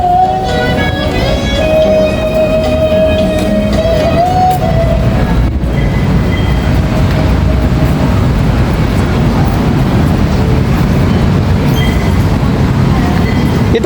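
An MRT train at Shaw Boulevard station in Manila rumbles loudly and steadily, with a high squealing tone from the wheels or brakes early on, then a dense continuous roar of the moving train as people talk faintly nearby.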